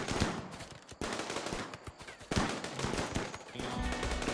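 Rapid gunfire and bursts of shots in a RimWorld and Space Haven crossover battle, with loud, dense volleys, overlapping impacts and brief lulls, building to heavier fire near the end.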